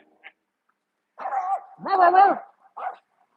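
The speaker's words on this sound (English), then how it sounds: "Little dogs are barking at the big dogs." Small dogs bark at a big dog during a Christmas dog walk: a short yip, then two longer whining barks and a final quick yap, close by and fairly faint.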